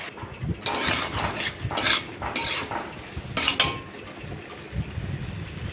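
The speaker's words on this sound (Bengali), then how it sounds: "দেখো, এই মশলাটাকে এবার সব সবজিগুলো সব খুব ভালো করে মিশিয়ে নিচ্ছি।" A utensil stirs vegetables and spices with a little water in a cooking pan for a Bengali fish curry. Several close scraping and clinking strokes come in irregular bursts, with no talk.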